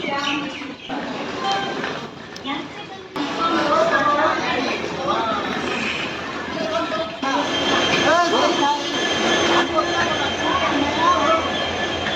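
A Vande Bharat express train standing at platform number 2 of a busy Indian railway station in the early morning, with a steady rumble and hiss of the train and station bustle, and chattering crowds and voices throughout.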